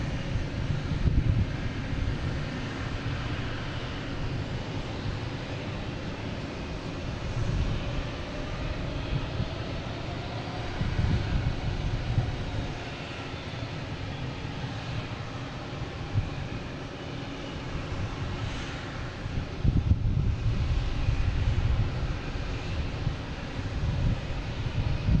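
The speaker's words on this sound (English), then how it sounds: "All kinds of planes back here, waiting to take off." Jet airliners idling and taxiing while they wait to take off at Boston Logan International Airport, a steady low engine rumble and whine with no talk, swelling a little near the end.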